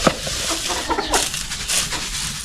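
Bantam chickens on a homestead cluck and chatter at feeding time, a cluster of short close calls over steady outdoor background noise.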